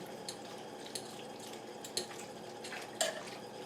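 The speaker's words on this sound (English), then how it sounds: "what I'm going to do is I'm going to stir this up in its juice here" BBQ pulled pork being stirred in its juice in a pot: wet squelching and faint liquid sloshing, with four clear utensil taps against the pot spaced about a second apart, close and quiet, no talk.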